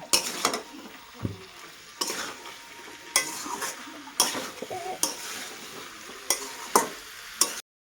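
A jackfruit, potato and meat curry is stirred in a pan, the spoon scraping and knocking against the metal in repeated sharp strokes over a low sizzle, close up.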